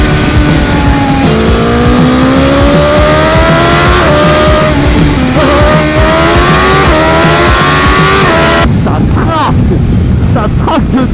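A 2021 BMW S1000XR motorcycle with its 1000 cc four-cylinder engine from the S1000RR accelerates hard, loud and close, climbing through several gears with rising whines and shift breaks, then buffeted by heavy wind noise near the end.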